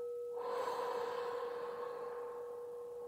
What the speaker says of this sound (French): Inspire profondément. Expire.